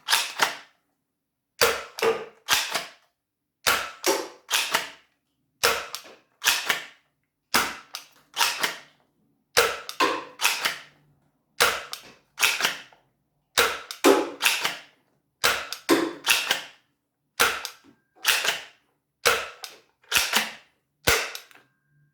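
Worker Gen 2 foam dart blaster fitted with an RMP4 spring, fired repeatedly in evenly spaced loud sharp cracks, each shot followed by a brief mechanical rattle, about a dozen rounds.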